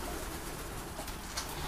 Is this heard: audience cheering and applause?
no